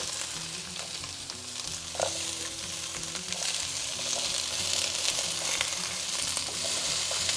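Steady, close-up sizzling of celery frying in a hot pan, with a low background hum and an occasional clink of a utensil.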